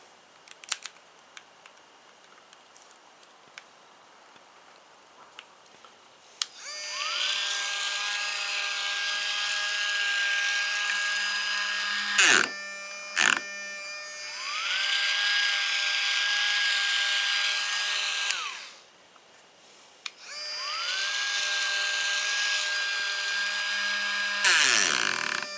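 A Ryobi power carver, a handheld rotary carving tool sold at Home Depot, whirs loudly in long steady stretches after a quiet start. It cuts out briefly with clicks, restarts, stops again near the end and spins back up.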